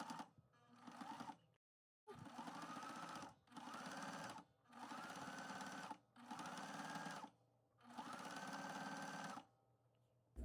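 Sewing machine back stitching cotton fabric strips for a jelly roll rug, running in six steady whirring bursts separated by short pauses, close and clear with no talking.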